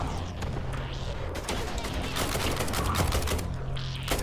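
Dense automatic gunfire from the video game Thunder Tier One rattles on loudly and steadily as rapid overlapping bursts, with faint voices mixed in behind the shooting.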